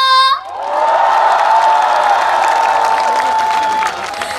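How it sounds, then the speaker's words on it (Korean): A big outdoor crowd at the 2024 Chuncheon makguksu and dakgalbi festival claps and cheers loudly, a dense roar of applause, shouts and whoops that swells after a brief sung or spoken tone and holds steady before easing slightly. "좀 더 힘내서 더 크게 박수와 함성"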